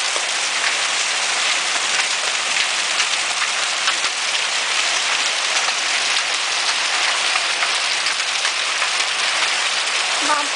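Heavy hail or rain pounds steadily on outdoor surfaces near a house with a lawn and pond during a July storm, a dense, unbroken roar of impacts from start to finish.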